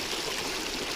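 Shallow stream water flows steadily over low rocks in Utah canyon country, a soft, continuous rushing sound with no voices over it.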